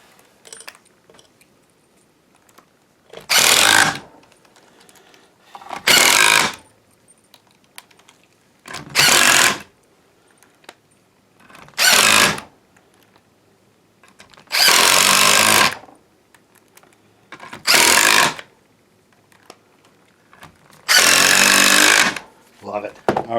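Power drill driving screws into a yellow birch bowl blank for mounting on a lathe, heard as seven loud, separate bursts of about a second each with quiet gaps between them.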